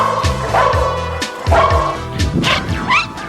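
A small dog yips and barks several times in quick succession, close and fairly loud, with whimpering tones between barks.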